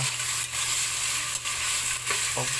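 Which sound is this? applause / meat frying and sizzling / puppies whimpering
meat frying and sizzling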